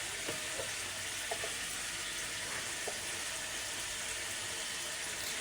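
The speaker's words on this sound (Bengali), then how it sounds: "হলুদ লবণ দিয়ে দিলাম, দিয়ে আমি ভালো করে মশলাটা কষিয়ে নিব" Turmeric and salt fried with spices for a Bengali mutton curry give a steady, close sizzle with faint spoon scrapes, heard alone without talk.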